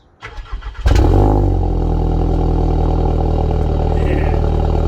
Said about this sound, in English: Should we try a little cold start?